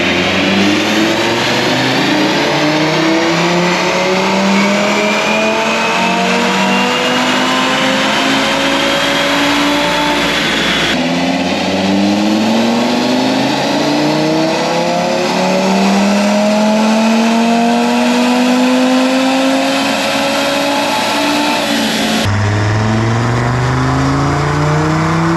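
Tuned Audi RS3 on Unitronic Stage 2 with 93 octane, Wagner intercooler, IE intake and CTS downpipe, roaring through repeated full-throttle pulls on a dyno, loud and close, the engine note sweeping steadily upward in each run.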